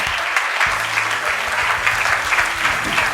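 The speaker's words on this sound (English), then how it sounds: "please give a big round of applause for your host, Barry Barrington." A full round of applause from an audience greeting a show host, dense and continuous clapping held at an even level throughout, with a low hum beneath.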